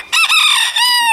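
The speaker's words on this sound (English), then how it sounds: "But I'm going to have to get rid of these roosters" A rooster crows once, close and loud, in a single drawn-out harmonic call lasting about a second.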